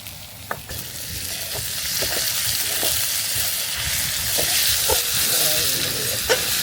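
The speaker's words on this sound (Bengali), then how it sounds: "আমরা দিয়ে দেব রসুন বাটা এবং আস্ত রসুন।" Garlic paste and whole garlic frying in hot oil for a dried fish dish, a steady sizzle with a few light stirring knocks, close and alone without talk.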